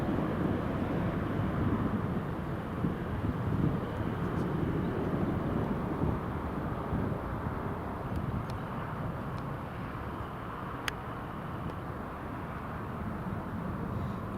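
British Airways airliner departing an airport toward London Heathrow on a hot afternoon, a steady, fairly distant jet rumble that slowly fades, with faint wind and no talk.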